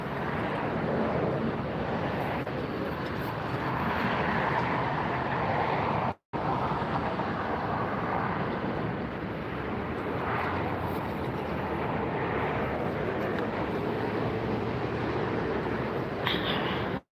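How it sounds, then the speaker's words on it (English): Kalitta Air Boeing 747 freighter taxiing at LAX after arriving from Anchorage, a steady broad jet engine roar that holds at a constant, moderately distant level for the whole stretch, with a brief dropout partway through. "you're looking at the Kalitta Air 747 freighter that just arrived from Anchorage"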